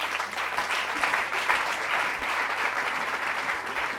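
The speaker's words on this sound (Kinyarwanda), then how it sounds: "reka Pastor Sebagabo ahaguruke dukomere Imana yacu amashyi." Applause from a congregation inside a church, a steady dense clapping that fills the whole stretch without a break, loud and close, with no voices standing out above it.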